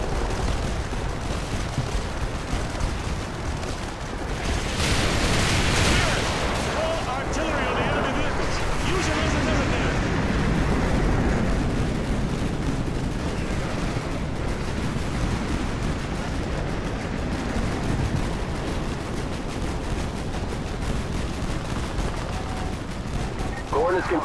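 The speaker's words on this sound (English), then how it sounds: "Artillery inbound." Artillery fire and explosions in the Call of Duty 2 game roar loud and continuous, with dense crackling gunfire and blasts that swell for several seconds before settling into sustained battle noise.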